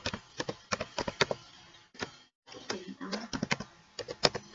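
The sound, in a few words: typing a SQL query on a computer keyboard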